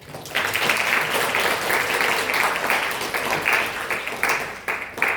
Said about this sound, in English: Let's give her a big warm and enthusiastic round of applause as she takes the stage